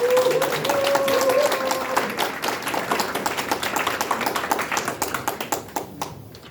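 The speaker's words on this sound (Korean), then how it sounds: "후보님한테 다시 한번 뜨거운 박수와 환호 부탁드리겠습니다." Audience at a Korean election campaign candidacy press conference applauds and cheers for a district mayoral candidate, dense sustained clapping that thins into scattered claps toward the end, with no speech over it.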